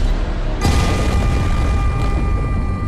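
A film shootout erupts with a sudden heavy blast, then a sustained roar of explosions and gunfire that stays loud and dense until it fades near the end.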